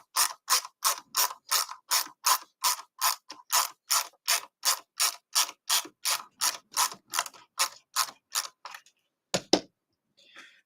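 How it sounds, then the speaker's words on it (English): Screws being driven into a 3D printed guitar saddle make a steady run of about twenty evenly spaced ratcheting clicks, close and crisp. The clicks slow and fade near the end, followed by a louder single clunk. "I'm just putting the outer screws in at the moment"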